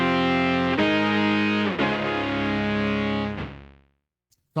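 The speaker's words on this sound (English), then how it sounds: "Saw lead 1 sounds like this." A saw lead patch on a Boss SY-1 guitar synthesizer plays a few buzzy, sustained distorted notes, close and loud, then decays into silence near the end.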